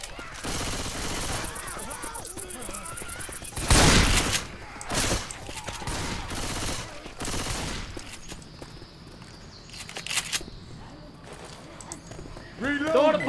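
Shotgun blasts and gunfire in the zombie game Left 4 Dead 2, with several loud bursts and scattered shots amid chaotic game noise. Voices talk over the action.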